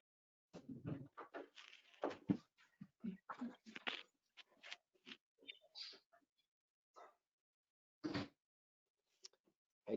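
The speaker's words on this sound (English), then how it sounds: "That my dog." A pet dog makes faint, distant yips and whimpers in the background of a video call, scattered short bursts with gaps of silence between them.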